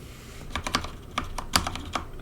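Keys tapped on a computer keyboard while testing volume and mute shortcuts on an Arch Linux Hyprland desktop, a handful of sharp clicks in an irregular rhythm, close and fairly quiet against faint room noise.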